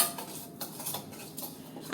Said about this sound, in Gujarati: ફરીથી આપણે મિક્સ કરી લઈએ.